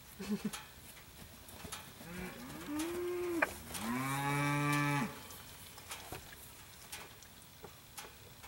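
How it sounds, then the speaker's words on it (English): A cow lets out a long, low moo, close by, with a couple of shorter lowing calls just before it, against quiet outdoor background. "These cows don't realize they can come in here."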